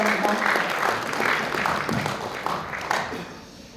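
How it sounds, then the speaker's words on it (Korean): Hall applause at a regional ESG forum in Chungbuk as a university alumni association president is welcomed; hearty clapping that thins and tapers off toward the close, with faint voices mixed in. "큰 박수로 환영해 주시기 바랍니다."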